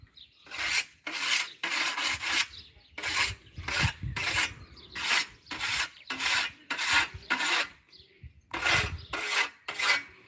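A knife is drawn against a honing steel in a rural village, producing a close, steady series of about a dozen sharp rasping strokes with brief gaps between them.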